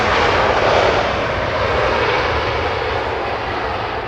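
Roaring KLM airliner engines at Los Angeles International Airport, a loud, steady broadband rumble with a whooshing hiss holding close and constant throughout, easing only slightly toward the end.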